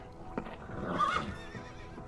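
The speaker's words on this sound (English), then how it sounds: "I'm feeding the horse." A horse in the VR video game Shadow Legend VR whinnies once, a rising neigh near the middle, with faint hoof clops and rustle around it.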